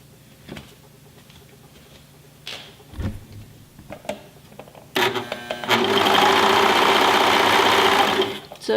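A domestic sewing machine stitches fabric for a peplum top in a steady, fast whir for several seconds after scattered handling clicks and knocks, close and fairly loud.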